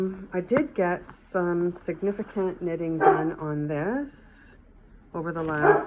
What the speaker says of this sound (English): sorry for the barking in the background